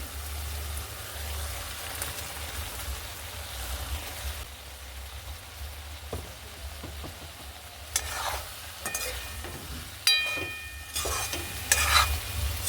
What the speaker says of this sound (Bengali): মশলা থেকে তেল ছেড়ে দিয়েছে এবার দিয়ে দেবো পটল আর আলু ভাজা